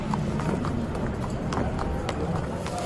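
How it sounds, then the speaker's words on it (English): Racehorses at Meydan Racecourse in Dubai are led from the stables toward the grandstand, their hooves clopping lightly under a steady wash of background noise and voices. "the horses move from the stables to beneath the grandstand"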